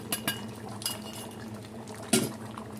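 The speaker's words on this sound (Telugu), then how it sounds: "మంచిగా తిప్పేయాలి." A spoon clinks against a pot while goat head curry with masala is stirred, a few sharp metallic taps over a quiet simmering background, with one louder scrape-clank near the end.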